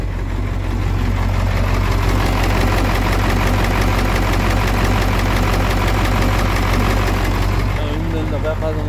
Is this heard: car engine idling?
yes